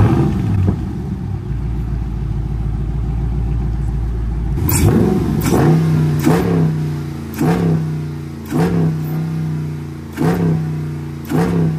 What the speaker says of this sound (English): Let me cold start my new scat pack, though.